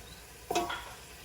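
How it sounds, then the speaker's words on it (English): Red pepper sauteing in a pan gives one brief, quiet stirring scrape with a faint sizzle, then falls back to near silence. "So keep on sauteing that. Stir that up"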